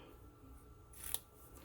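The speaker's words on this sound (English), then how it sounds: "I'm going to trim off a length that's just wider than" A single quiet snip of scissors cutting through a length of ribbon, one short crisp cut near the end of an otherwise hushed moment.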